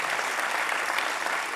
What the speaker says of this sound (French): Ça mérite bien quelques applaudissements, non?